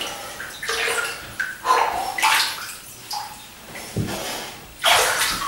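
Warm water running into a bath to top it up, a broad splashing wash of filling water with uneven surges, close and fairly loud, no speech.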